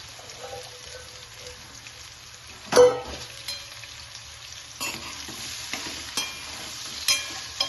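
Cut okra tumbles into a frying pan with crushed garlic and gets stirred, one sharp clatter and hiss followed by quieter sizzling and scattered scraping taps at close range.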